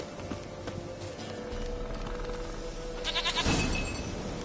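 Goat bleats from The Witcher 3 video game, heard in short, moderately loud calls over a layered game soundscape of ambient noise and music, strongest near the end.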